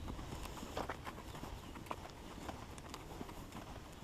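A horse trotting with a rider posting in the saddle during a riding lesson, faint rhythmic hoof clip-clops repeating at an even pace from a distance, with soft background noise.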